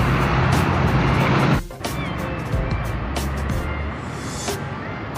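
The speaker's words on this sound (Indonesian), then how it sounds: "Dan langsung ya bus Sugeng Rahayu berangkat menuju arah Jogja." Sugeng Rahayu economy-class bus pulling away toward Jogja on a misty Monday morning toll road, with a loud engine rumble that cuts off sharply, then a steadier mid-level drone of traffic carrying on.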